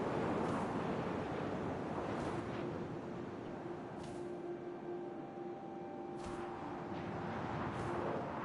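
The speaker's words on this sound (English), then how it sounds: "First, all I heard was the wind." Steady rushing wind in the owl scene of the game What Remained of Edith Finch, a soft, continuous low wash with faint sustained tones beneath it and no voices.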